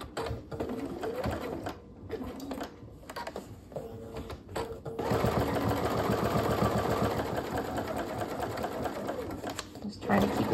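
A domestic sewing machine stitches fabric for a zippered snack pouch, whirring in steady bursts that start and stop, then run continuously for several seconds; someone talks over it at moments.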